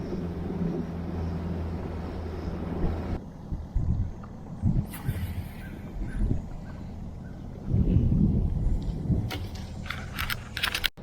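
Outboard motor on a bass boat during a bass tournament, limited to about seven miles an hour, drones as a steady low rumble at first, then gives way to wind buffeting and intermittent thumps.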